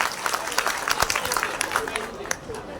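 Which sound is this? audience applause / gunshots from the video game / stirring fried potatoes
audience applause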